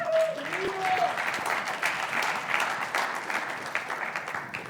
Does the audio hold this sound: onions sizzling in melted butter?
no